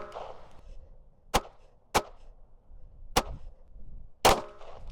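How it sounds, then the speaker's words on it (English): Four sharp gunshots from an Equalizer pistol firing 115-grain rounds, spaced unevenly over a few seconds, loud and close with short echoing tails. "I'm going to shoot another 5 shots out of this gun with the 115s."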